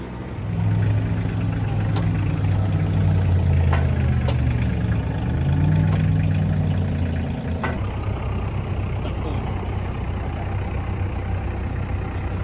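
A tractor's diesel engine runs nearby at a steady, throbbing idle, with a few clanks and clicks, then the engine note drops lower and quieter.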